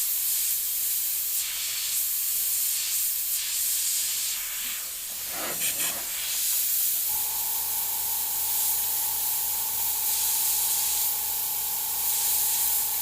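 Airbrush spraying paint on a tiki painting, a steady close hiss running throughout, briefly dipping, with a faint tonal hum from equipment joining partway.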